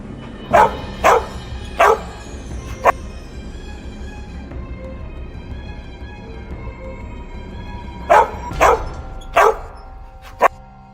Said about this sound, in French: Monsieur Ford, il y a un gros chien agressif là-bas.